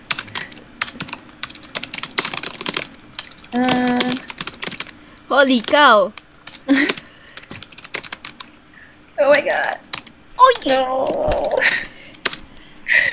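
Fast clattering keystrokes on a computer keyboard during a typing game, coming in quick bursts between excited shouts and groans from a player.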